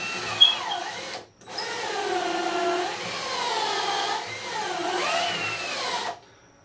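A power drill bores holes into wooden stiles while building a buffet with hutch, whining in two sustained runs with a short pause between them, fairly close and alone.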